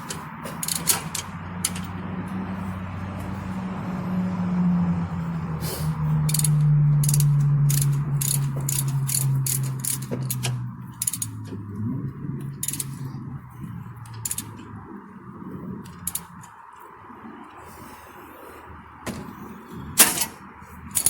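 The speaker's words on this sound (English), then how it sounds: "hold the nuts, tighten my bolts" A ratchet clicks in quick repeated bursts while tightening bolts on the rear brake hardware of a Dodge Charger SXT, close and clear over a low mechanical hum, with a louder clack near the end.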